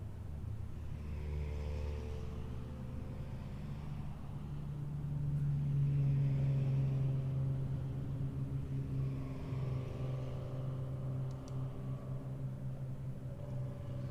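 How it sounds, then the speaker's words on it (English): Race cars at an endurance race at Barber Motorsports Park, heard as a faint, distant engine rumble that swells as a car passes through the middle and then fades back to a steady background drone. "Get a good view of the cars as they come through here."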